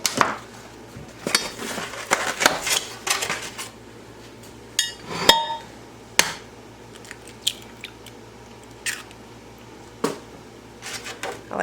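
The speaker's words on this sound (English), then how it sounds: "I like to crack them into a bowl first, make sure we don't get any shells" Four eggs cracked one by one into a bowl while a sweet potato casserole is prepared, heard as close, sharp shell taps and cracks, with clinks against the bowl and soft wet drips between quiet pauses.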